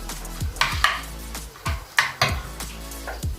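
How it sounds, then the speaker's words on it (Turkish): Spoon slowly stirring mayonnaise into a carrot tarator in a bowl, a series of soft, wet scraping strokes in an uneven rhythm, close and fairly clear. "mayonezimizi ilave edelim. Şöyle yavaşça karıştıralım."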